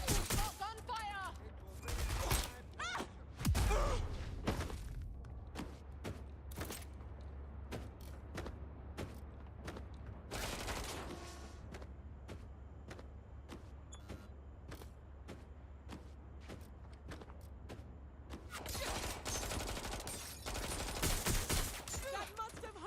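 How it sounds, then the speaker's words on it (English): Repeated gunfire bursts and single shots from the video game Watch Dogs Legion, loud and sharp at the start and again near the end, with scattered shots between and a steady low rumble underneath; a voice speaks over it. "Got gunfire!"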